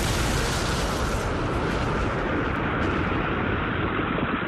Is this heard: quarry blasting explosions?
yes